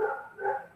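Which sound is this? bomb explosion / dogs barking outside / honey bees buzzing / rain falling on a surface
dogs barking outside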